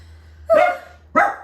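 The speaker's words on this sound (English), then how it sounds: "he's gonna have barked all through this video" A pet dog barks twice indoors, two sharp close barks about half a second apart over a low steady hum.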